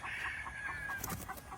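A rooster clucks in a quick series of short, soft notes, fairly quiet and close, with a faint whistling tone in the background.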